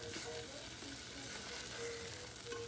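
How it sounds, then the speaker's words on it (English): Flour being stirred into a hot pan of roast cooking juices on the stove, a steady soft sizzle and bubbling with faint scraping of the stirring, quiet and continuous with no talk. "You just want to stir it in little by little, you know, and incorporate your flour"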